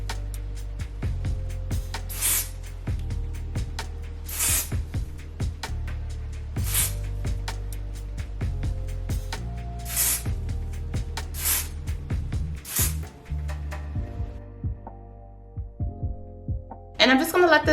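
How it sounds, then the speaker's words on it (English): Several short hissing bursts of aerosol hair spray on a wig, spaced a couple of seconds apart, with music playing underneath. "I'm gonna spray a little bit more spray."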